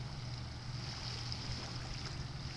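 A motorboat towing water skiers on the water near Chilliwack, British Columbia, heard as a steady, distant engine drone blended with a wash of water and wind.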